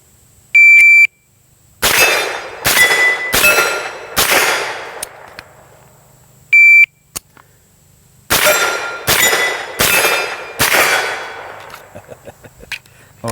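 At a shooting range with a Windham Weaponry 9mm carbine, a shot timer gives a sharp electronic beep, then a quick string of loud, evenly paced gunshots; a second beep, one lone shot and another rapid volley follow.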